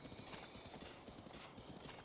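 Horse hooves clip-clop steadily in The Legend of Zelda: Breath of the Wild, a close, continuous rhythmic gait with no talk over it.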